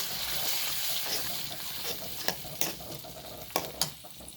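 Ground tomato paste is stirred into a pan of curry with asafoetida, a soft, low sizzle with wet squelching and a few distinct scrapes and taps of a spoon against the pan.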